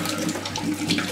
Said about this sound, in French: Là maintenant je vais rincer.